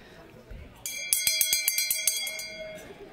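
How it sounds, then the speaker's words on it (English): A handbell is rung to call a church gathering to be seated, a rapid run of bright metallic strikes for about two seconds against a quiet room. "It's terrible that you have to ring a bell to get people to actually sit down."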